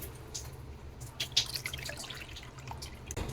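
Strained tamarind water is poured into a bowl for rasam, giving soft splashes and trickling drips throughout, close by and without talk.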